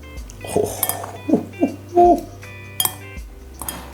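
Metal utensils clink and scrape in a bowl as a bibimbap rice bowl is mixed, several distinct close clinks and taps standing out over quiet room sound.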